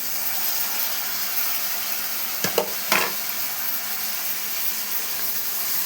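Onions frying in a pan give a continuous steady sizzle and hiss, broken near the middle by two short scraping clatters as the spoon stirs them.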